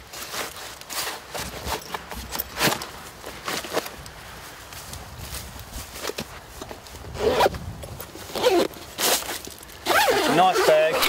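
Drifta camping bag being zipped shut, with several rasping zipper runs and bursts of fabric rustle and handling close by, and short pauses between the pulls.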